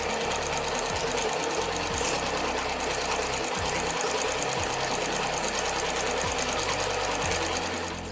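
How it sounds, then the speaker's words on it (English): A sewing machine runs steadily, stitching along quilted bag handles with a rapid, even needle rattle and a continuous motor hum, close up and loud with no talking. "let's take it over to our sewing machine, and we're going to stitch along both sides of this"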